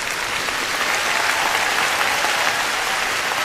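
Dense, steady applause from a huge arena audience at the final night of a 2012 concert in Hong Kong, loud and sustained throughout with no voices over it.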